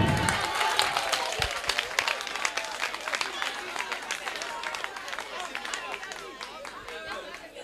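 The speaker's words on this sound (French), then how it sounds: "On va applaudir pour lui." A classroom workshop audience claps for a student, a sharp burst of many hands that thins into scattered claps and murmuring chatter as the noise tapers off.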